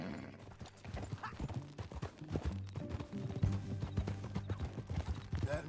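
Horse hooves in the video game Red Dead, a quick rhythmic clip-clop of galloping under faint background game sound, steady and fairly close throughout.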